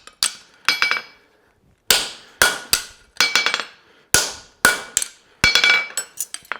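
A farrier's hammer rings on a hot Mustad specialty hunter front horseshoe at the anvil, loud and close, striking in quick bursts of two to four sharp metallic blows separated by short pauses.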